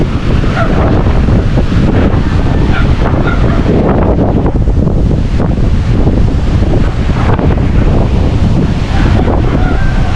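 Strong wind buffeting the microphone with steady roaring gusts, over the wash of ocean waves, continuous and loud throughout.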